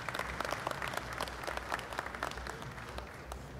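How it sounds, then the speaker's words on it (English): A crowd at a bankers' annual dinner claps steadily, a quiet, somewhat distant patter of many hands that holds for a few seconds. "Please give our past presidents a round of applause"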